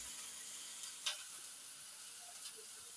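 Onions sizzle in a frying pan with a steady, quiet hiss, with a brief stir or clatter partway through and no talking.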